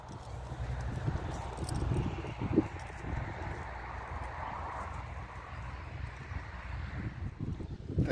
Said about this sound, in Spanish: Y si no, el caballo anda así.